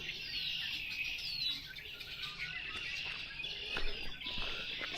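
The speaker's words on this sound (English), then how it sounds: "oh, listen to all those birds up there." A large flock of birds chirps and tweets continuously overhead near a tunnel on a wooded rail trail, a dense, bright chorus of overlapping calls sustained throughout with no talking.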